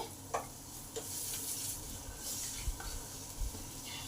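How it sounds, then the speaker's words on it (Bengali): Grated ginger, curry leaves and spices sizzling in oil for dal, a steady close crackle with intermittent stirring scrapes and clinks, no voices. "এইসব মশলাগুলোকে ভালো করে 5 মিনিট ধরে ভেজে নিতে হবে।"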